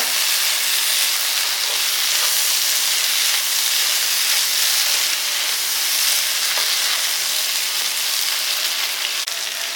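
Onions sauté and sizzle steadily in a hot pan while being stirred for a chapati side dish, a dense, continuous crackling hiss with faint scraping, no voices.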